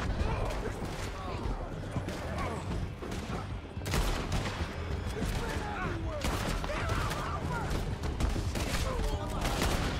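Dense rolling gunfire from a shootout in the Red Dead Redemption 2 video game, with many overlapping shots crackling continuously over ten seconds, busy and loud throughout, mixed with other in-game sounds and a voice talking.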